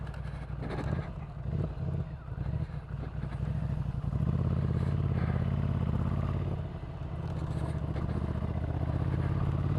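A 2015 Ducati Scrambler 800cc motorcycle being ridden, its engine droning loud and steady throughout with rising and falling revs, some low rumble and clatter, no talking.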